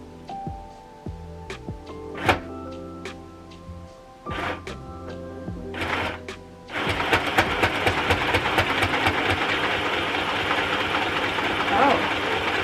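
Sewing machine starting to stitch after a few hesitant taps and clicks, then settling into a steady rapid mechanical chatter, close by with a voice briefly present.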